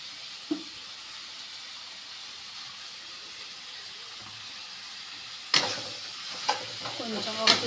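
Egg fried rice sizzling in a pan with tomato sauce and chilli sauce, a soft steady hiss that bursts louder when the mix is stirred and tossed near the end.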